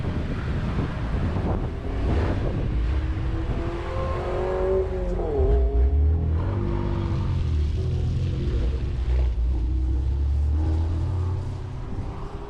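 Team Lizard Motorsport BMW M2 Competition race car on a track, a loud roaring engine buffeted by heavy wind noise, with a pitch sweep and a deep rumble partway through.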